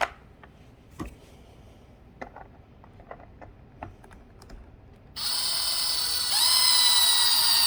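Tightening the large top screw on a Hoover Power Dash Pet carpet cleaner: faint scattered clicks at first, then a loud, steady whirring drone takes over for the final stretch, alone and close.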